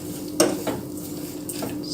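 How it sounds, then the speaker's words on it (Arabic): A spoon clinks against the inside of a cup while stirring instant coffee into milk, a few light metallic taps over a steady background hiss. "ذوبوها مع الحليب"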